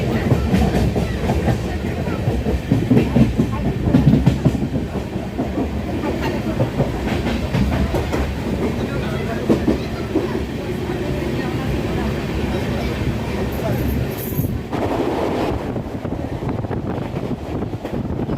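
Loud, continuous rumble and rhythmic rattling of the Mahalakshmi Express passenger train moving along the tracks, heard close with wind buffeting, easing slightly toward the end.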